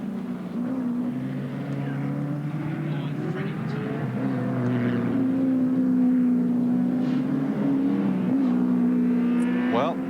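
Touring race cars lapping Oran Park circuit during round 9 of the 1987 Australian Touring Car Championship, engines droning steadily at mid distance with a rising whine near the end, under continuous commentary.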